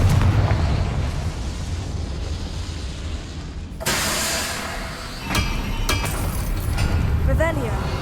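A Confringo explosive spell in Hogwarts Legacy bursts with a sudden broadband blast partway through, followed by crackling debris and rumbling echoes over a low game ambience.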